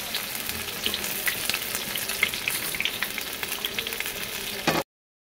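Onions fry in hot oil with bay leaf, dried chilli and whole garam masala, giving a loud, steady sizzle with crackles that cuts off abruptly near the end.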